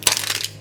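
Stiff plastic surprise-ball packaging from an LOL Winter Disco toy is crushed and crackled open, with two loud crinkling bursts separated by steadier rustling, close and alone.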